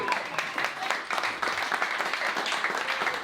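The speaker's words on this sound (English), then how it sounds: "Clap it up for him." A crowd applauds steadily, dense clapping filling the short stretch at an even, lively level.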